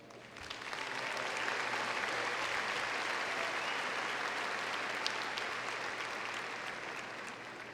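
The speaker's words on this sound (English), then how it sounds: "Will everyone please join me in giving them one last round of applause?" Sustained applause from a large crowd at a 2019 high school graduation ceremony in Laredo honoring the graduating students, swelling within the first second and holding steady and loud throughout.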